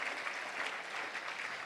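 Brief, even applause at a Little Rock Touchdown Club luncheon, a soft, continuous patter of many hands heard at a distance.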